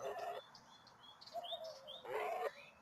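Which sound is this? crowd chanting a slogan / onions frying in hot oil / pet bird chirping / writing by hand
pet bird chirping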